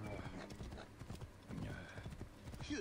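Horse hooves clip-clopping at a rapid gallop in the Assassin's Creed Origins video game, a steady drumming rhythm with a brief whinny, under game ambience and some talk.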